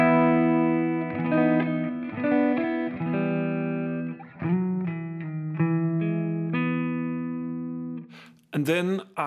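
Clean lead tone from a Custom 24 electric guitar with a Full Shred neck pickup through a Laney amplifier's clean channel: a melodic line of sustained, ringing notes with some chorus-like shimmer, played alone and close.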